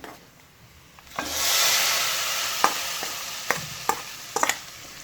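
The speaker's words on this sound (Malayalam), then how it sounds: "അപ്പോൾ അത് ഇങ്ങനെ ഒന്ന് ഇളക്കിയിട്ട് നമുക്ക് നമ്മുടെ കറിയിലേക്ക് ഇട്ട് കൊടുക്കാം." Dried red chillies fried in hot oil in a pan for a Malayalam mulaku charu curry, a loud sizzling hiss that swells after a second and holds steady, broken by several sharp scraping clicks of a spoon stirring, with no talking.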